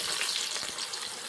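Amla (Indian gooseberries) fry in hot oil, a brief, dense and even hiss of sizzling held at a steady level from start to finish.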